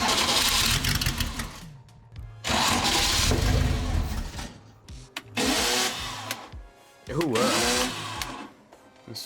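A cheap supercar's engine cranks repeatedly in three or four loud bursts, each churning for a second or two before stopping short, with brief pauses between attempts and a quiet voice in the gaps.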